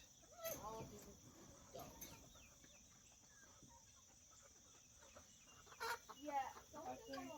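Soft clucking from chickens in short bursts, with chirping insects droning steadily in the background.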